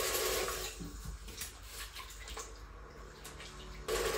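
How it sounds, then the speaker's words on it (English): Water is poured into gravy thickened with corn flour in a pressure cooker, a soft steady splashing stream that tails off and briefly picks up again at the end. "We can also add our remaining water."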